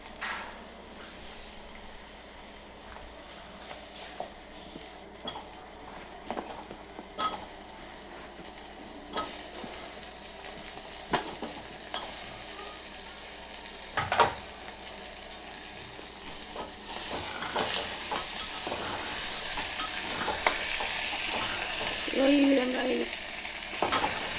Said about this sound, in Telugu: సమ్ స్టవ్ చిన్నగా పెట్టుకొని ఇప్పుడు ఆలుగడ్డ వేసుకుందాం